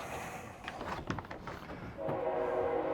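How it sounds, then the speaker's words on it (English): A train passing by near a bridge deck work site, a rising rumble with rattling and a steady hum that grows louder toward the end. "And now we got a train coming by."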